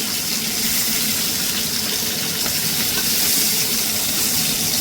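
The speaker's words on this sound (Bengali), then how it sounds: "মাছগুলো খুব কড়া করে ভাজবো না হালকাই ভেজে নেব" A constant, loud sizzling hiss fills the whole stretch as fish fries lightly in hot oil, with no talking.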